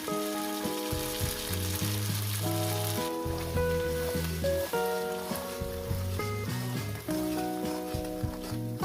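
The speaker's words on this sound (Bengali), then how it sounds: "মশলাটাকে সুন্দর করে কষিয়ে নিতে হবে" A spice paste fries loudly in oil for a rohu fish curry while being stirred, a dense steady sizzle running throughout, up close, with music playing over it.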